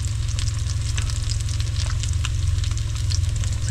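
Catfish fries in hot oil, a loud, continuous sizzle with dense crackling and popping that never lets up.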